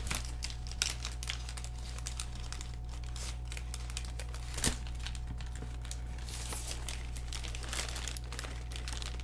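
Paper being folded for origami, worked into a squash fold: faint, close crinkling and soft creasing rustles in scattered small bursts over a steady low hum, with no talking.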